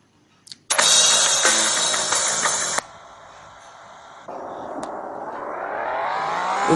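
A Mustang's engine starts up in a video game with a loud burst of cranking and catching, settles to a lower idle, then rises again into a building rev.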